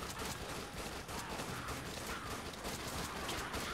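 Dense, continuous gunfire from the zombie shooter game Dead Nation, a steady barrage of shots and blasts filling the whole stretch with no pauses.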